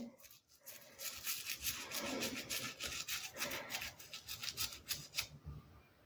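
Faint, soft rasping rubs as grime is gently scrubbed off a vintage 1950s Schleich bendy toy figure, continuous close brushing strokes with a brief pause near the start.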